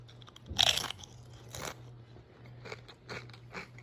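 A seasoned Pringles-style potato chip is bitten with one loud, sharp crunch close to the mic, followed by a few softer chewing crackles against a low steady hum.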